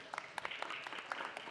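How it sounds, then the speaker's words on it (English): An audience at a city council meeting claps, with scattered, fairly faint hand claps forming a brief ragged round of applause. "One more big round of applause."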